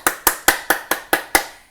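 At a festival's closing concert, hands clap together in unison, seven sharp, evenly spaced claps in quick steady rhythm, each with a short ringing decay, with no voices.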